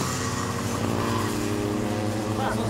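Micro MAX racing karts run on a circuit during a race heat, a steady buzzing two-stroke engine drone filling the clip at moderate distance, with an excited commentator talking over it.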